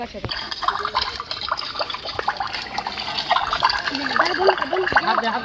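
Water runs from a tank, a continuous splashing, gurgling flow heard up close while people talk over it.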